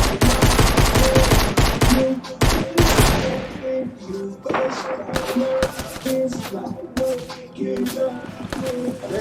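Rapid bursts of gunfire crackle over loud music with a steady melodic line, the shots dense at first and then scattered and sharp through the rest, close and loud.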